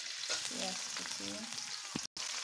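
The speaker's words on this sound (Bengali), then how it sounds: "এখন আমি এটা সুন্দর করে লাল লাল করে ভেজে নেব।" Chopped onion and green chilli frying in plenty of oil with bay leaves, a steady close sizzle with stirring scrapes, a voice briefly heard over it.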